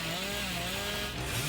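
The Hillbilly's chainsaw in the video game Dead by Daylight, a continuous buzzing motor drone with steady harmonic whine, held throughout at low level without speech.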